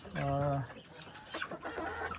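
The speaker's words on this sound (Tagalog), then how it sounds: "Yung manok, pinapakain na natin." A chicken gives a drawn-out, nasal call near the start, followed by softer clucking and scratchy farmyard noise.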